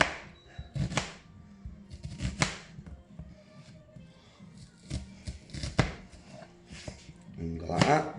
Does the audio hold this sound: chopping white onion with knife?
yes